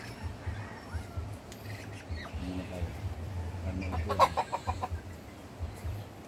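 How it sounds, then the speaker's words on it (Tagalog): Ducks kept by a woman at a rural home let out short, faint bursts of calls in the distance. The calls cluster into a quick run of squawks partway through, over quiet background noise. "Ang dami rin yung pato, oh."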